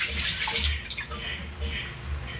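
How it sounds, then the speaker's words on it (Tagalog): Water poured into a pot of burnt rice, a steady broadband wash of splashing and pouring that runs the whole moment at close range. "Nilagyan ko agad ng tubig kasi para lumambot."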